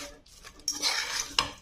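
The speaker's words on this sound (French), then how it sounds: "Avec une fourchette pour écraser la viande." A fork mashing minced meat with onions in a pan makes brief metallic scrapes and clinks against the pan over a low sizzle.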